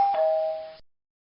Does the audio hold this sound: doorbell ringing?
yes